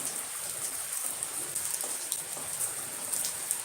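Steady rain patters down continuously in a village, a dense hiss of drops on a surface with a few slightly louder splashes, no voices.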